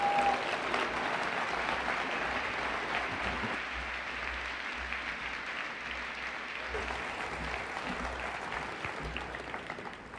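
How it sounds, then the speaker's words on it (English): An audience gives Elon Musk a big round of applause at a 2013 energy talk, sustained crowd clapping that starts strong and tapers slightly over ten seconds, faint and somewhat distant. "Let's give a big, big round of applause to Elon Musk."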